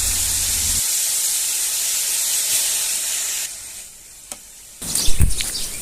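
Vegetables with chili fry in a pan for a Marathi home feast, giving a steady broadband sizzle that dips and fades midway, then returns louder with sharp crackling bursts toward the end.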